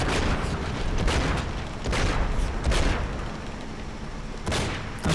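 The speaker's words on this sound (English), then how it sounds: "That truck usually explodes there." A truck explodes in the video game Enter The Matrix amid loud, continuous booming and gunfire-like bursts, with repeated heavy blasts filling the whole stretch.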